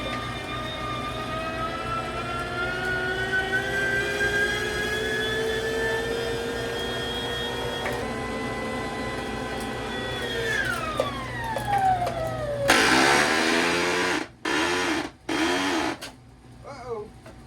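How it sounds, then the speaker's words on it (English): A cordless drill motor drives a Weston electric tomato strainer, whining at a steady pitch that sags as the motor bogs down under load, then sputters and cuts out in a few abrupt bursts. "Uh-oh, we done choked the motor down that time."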